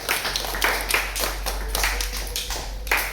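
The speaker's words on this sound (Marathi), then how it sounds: "एकदा कैवल्यासाठी जोरदार टाळ्या वाजवायच्या सर" An audience claps for a student's innovation, with quick, uneven handclaps from a group over a low, steady hum.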